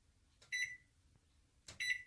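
A microwave oven beeps twice, about a second apart, as its clock is being set after a power outage, each short electronic tone clear and close over a quiet room.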